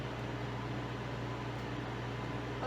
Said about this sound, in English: Oh, there we go. I hear the vacuum.